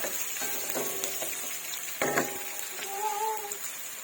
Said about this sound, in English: In the low flame, let it cook for some time until the color changes.